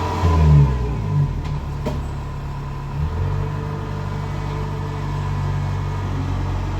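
A 2017 Kubota DC70 harvester engine running during a customer test drive, a steady low rumble with a brief rev near the start, then an even idle-like drone, close and alone.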